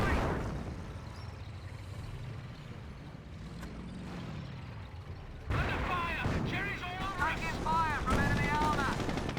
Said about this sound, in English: Another 25-pounder barrage here.